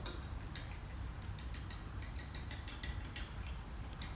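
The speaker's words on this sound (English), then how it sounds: "We're gonna have to whisk it" Rapid, steady ticking of a whisk against a bowl as French toast batter is beaten, a continuous run of light metallic clicks over a low background rumble.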